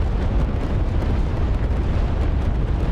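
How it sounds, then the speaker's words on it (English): Bombs detonate on ground targets in the DCS flight simulator, a dense, loud, rumbling barrage of overlapping explosions with no pauses. "Oh, bombs hitting."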